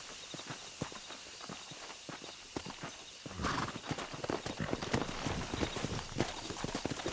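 Rapid clip-clop of horse hooves on hard ground in Red Dead Redemption, growing louder and busier partway through, with a faint whinny mixed in.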